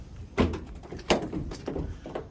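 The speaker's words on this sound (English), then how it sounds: "And then opening up the back end of the vehicle." Rear doors of a 2017 Ford Transit Connect 1.5 TDCi van, ex-Sky TV, are opened with a few distinct latch clunks and thuds over about two seconds, fairly quiet and unaccompanied by speech.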